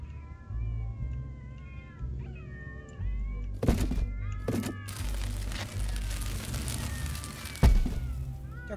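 Cats meowing in the South Park: The Fractured But Whole video game, several distinct cries repeating over a steady low game background hum, with a couple of sharp thuds partway through.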